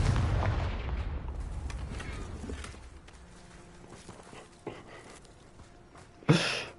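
Confringo blasting curse in Hogwarts Legacy, a heavy booming explosion that rolls and fades into rumbling debris, with scattered thumps and a sharp burst near the end.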